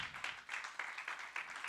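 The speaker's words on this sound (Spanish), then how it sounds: "Dale palmas al Señor." Church congregation clapping in quick, uneven bursts, fairly quiet and a little distant, with a raised voice or two mixed in during the service.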